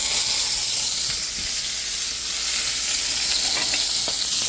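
Butter sizzles in a hot pan where bread is being toasted, a steady bright frying hiss that runs loud and continuous throughout with a few small crackles and no talking.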